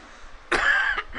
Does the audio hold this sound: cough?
yes